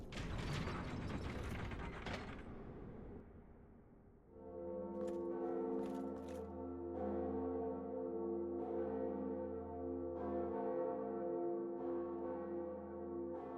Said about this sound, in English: we're going to run in here and we're going to ring our second set of bells.